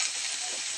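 A pumpkin dish frying in a pan gives a steady, loud, close sizzle and hiss, with faint scraping of stirring mixed into the hot oil.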